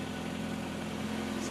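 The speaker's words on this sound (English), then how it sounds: "Still idling in the garage." A 1982 BMW 325 idling in a garage, a steady low hum with a constant tone and no revving, fairly quiet and unbroken.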